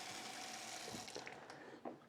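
Eight cups of water poured from a 4-cup measuring container into a soup pot, a steady, soft splashing hiss throughout with a few brief gurgles near the end.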